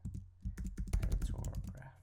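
Rapid bursts of computer keyboard typing, close and crisp, with irregular clusters of keystrokes and a short pause near the start, as a name is entered on the keys.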